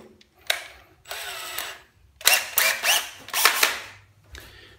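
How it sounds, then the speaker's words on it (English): An electric drill twisting a yoyo string on a rig, running in several short bursts of whirring with brief pauses between them, close and fairly loud. "All right, now I'm gonna grab my drill."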